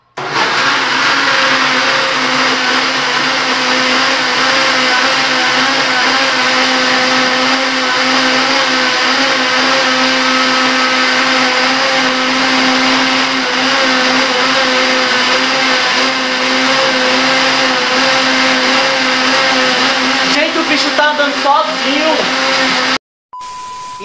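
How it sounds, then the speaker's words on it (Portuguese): A blender runs loud and steady for about twenty seconds, whirring continuously while mixing a quick strawberry mousse, before it cuts off abruptly. "botar aqui pra rodar no liquidificador"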